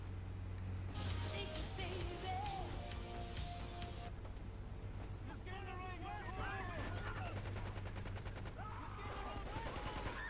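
Continuous bursts of gunfire in GTA 3 during a city shootout, steady loud popping layered under game engine drone and chirpy in-game sound effects, with someone talking intermittently.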